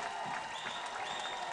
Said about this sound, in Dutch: Het applaus klinkt van de tribune.